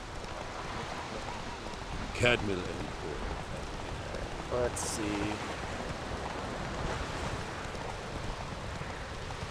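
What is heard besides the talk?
rain in the video game Witcher 3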